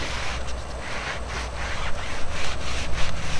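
Applicator rubbing Dinowax wash-and-wax onto a car's paint, a steady close back-and-forth scrubbing swish that quickens into rhythmic strokes toward the end.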